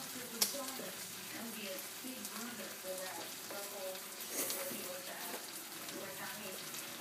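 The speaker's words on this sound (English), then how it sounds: "Beef cooking in coconut butter." Quiet, steady sizzling of beef frying in coconut butter in a pan, with faint crackles and a soft clink early on.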